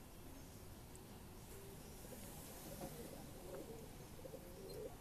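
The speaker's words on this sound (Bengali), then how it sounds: "হচ্ছে পায়রা" Sharanpuri Napta pigeons kept for high-flying breeding coo softly in the background, a low murmuring tone over a steady hiss of ambient noise, with no talking.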